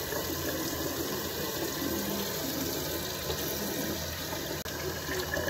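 Tap water runs steadily into a sink while a face is rinsed, a continuous close-up rush that holds evenly throughout with no speech.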